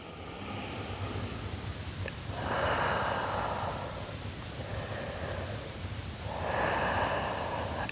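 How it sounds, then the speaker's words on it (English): Deep breathing during a Pilates workout, two slow, audible breath cycles with long airy exhales rising and falling, close and alone without talk. "Two more deep breaths."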